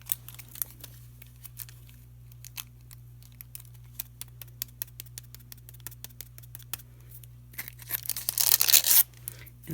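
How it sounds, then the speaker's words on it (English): Parchment paper is handled and pressed over hot glue on a boho art doll, giving soft, scattered crinkles and sharp ticks against near silence, then a brief louder rustling burst near the end. "I'm going to push it down just a little bit with a piece of parchment paper"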